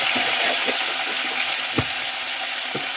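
Curry leaves fry in hot oil, a steady close hiss and crackle with a few sharp pops and stirring clicks scattered through it.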